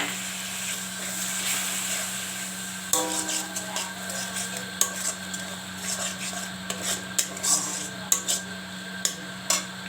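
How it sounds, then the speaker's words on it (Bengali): Ginger and spice masala is stirred and sautéed in a pan for an egg curry, a steady sizzle with repeated scraping and clinking of a utensil against the pan in the second half. "এবার এটাকে ভালোভাবে কষিয়ে নেব"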